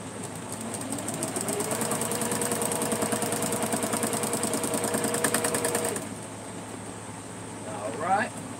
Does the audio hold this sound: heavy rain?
no